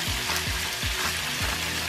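Garlic and shrimp frying in a pan, a steady close sizzle with a repeated stirring scrape about every half second throughout.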